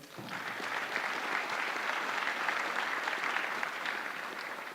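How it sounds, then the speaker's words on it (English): A room full of people at an investors' annual gathering breaks into applause for a mentor, building quickly and holding a steady, moderately distant clatter for several seconds. "A round of applause for Norman."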